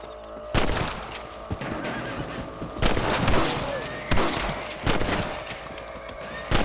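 Sharp rifle shots ring out at intervals while hunting rabbits in Red Dead Redemption, mixed with horse whinnies and clip-clopping hooves in an outdoor game scene.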